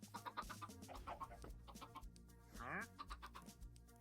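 Minecraft chickens cluck around a chicken coop with shelves and water beneath, giving short, faint game clucks with one longer call midway, under a low background with some voice.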